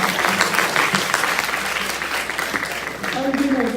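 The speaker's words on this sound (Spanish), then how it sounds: "Y bueno, ya ahora sí ya aplaudan." A class at a dermatology pharmacology lecture breaks into applause, a dense burst of clapping with voices talking and laughing underneath toward the end.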